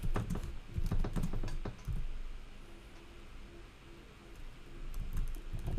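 Rapid keystrokes on a computer keyboard, a dense close burst of clicking that thins out into sparser taps over a steady background hiss, with no talking.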